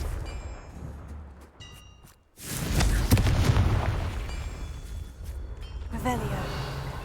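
A Confringo fire spell bursts in Hogwarts Legacy, a single loud boom that swells suddenly and then rumbles and crackles for several seconds over game sound.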